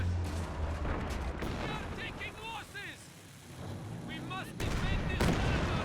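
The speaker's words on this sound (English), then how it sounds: "Another Katyusha for Outlaw Star." Katyusha rocket artillery firing in a Company of Heroes 2 battle: a string of whooshing, whistling rocket launches and booming impacts over steady battlefield rumble, with a brief lull midway before louder bursts resume.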